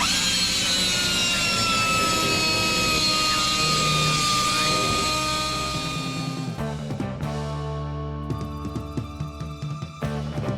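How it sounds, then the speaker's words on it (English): A die grinder cuts through the rusted frame of a Jeep YJ, a loud, steady high-pitched whine with a sustained tone that runs close and continuous, then breaks into choppier, stuttering bursts near the end. "nothing a die grinder can't fix"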